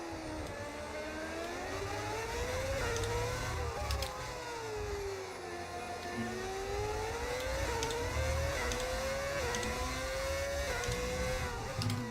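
A Formula 1 car engine in the video game F1 25 whines and revs continuously, its pitch rising and falling through gear changes, loud and unbroken with no talking.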